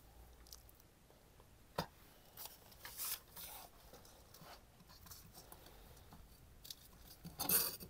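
Scissors snipping through a piece of gel print paper, giving soft scattered cuts and rustles with a sharper snip early on and a louder crinkle at the very end, close and quiet.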